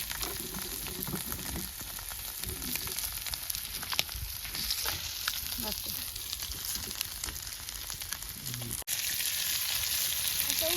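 Fish frying in hot oil outdoors in a forest at dusk, a steady dense sizzle and crackle of spattering oil running throughout, with faint stirring and occasional background sounds.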